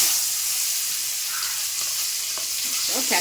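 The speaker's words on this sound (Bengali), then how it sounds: "এখানে দেখো এগুলো এখন ভাজবো" Food frying in a new, thin, very hot wok, a broad steady sizzle and hiss with faint stirring clatter near the end, close and continuous, no speech.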